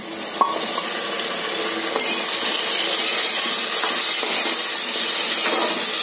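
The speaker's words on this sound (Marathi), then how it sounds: "आता मी चरबी घालते याच्यामध्ये, चरबी" Animal fat sizzles and fries steadily in a hot pan while biryani is being made, a close, continuous hiss broken by a few faint clinks of a utensil against the pan.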